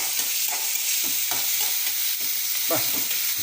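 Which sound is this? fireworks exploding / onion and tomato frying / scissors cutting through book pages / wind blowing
onion and tomato frying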